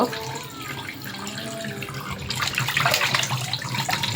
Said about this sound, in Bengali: মাছগুলো ভালো করে আগে ধুয়ে নিতে হবে।